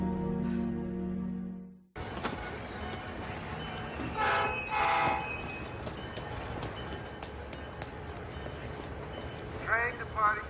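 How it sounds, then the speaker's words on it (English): A train departs a station: after a brief quieter start, loud rail noise with screeching wheel squeals and metallic clatter fills the scene, with a horn-like tone near the end. "Train departing to Boston will be on track 4."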